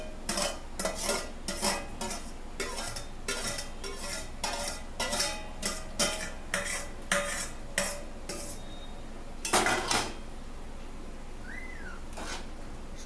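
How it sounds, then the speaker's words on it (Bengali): A spoon scrapes and clanks rhythmically against a pan while Maggi noodles are stirred together with fried vegetables and egg, a series of close, sharp metallic strokes with a brief pause near the end. "সবজিগুলো দিয়ে ভালো করে এবারে ম্যাগিটাকে এর সাথে মিশিয়ে নিতে হবে।"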